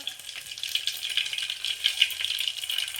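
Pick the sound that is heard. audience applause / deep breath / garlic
garlic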